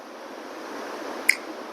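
A single crisp finger snap, short and close, stands out once against a soft steady background hiss.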